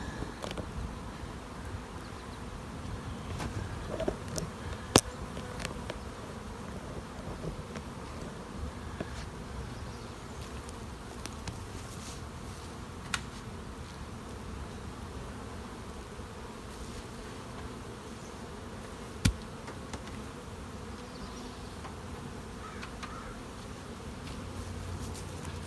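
Honeybees hum steadily around stacked honey supers during a harvest, a continuous even drone with a few sharper passes close by and no talking.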